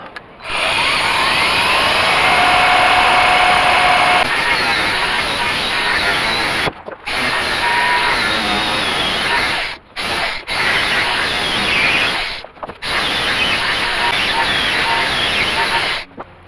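An angle grinder cuts through a Duraply sheet for the back window of a 1946 or 1948 Chevrolet, a loud continuous abrasive whine broken by a few short pauses.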